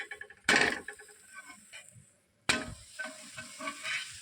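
Millet dosa batter sizzling and frying on a hot pan, with two sharp bursts of spatula scraping as the dosa is flipped, the sizzle dropping back to a steady crackle between them.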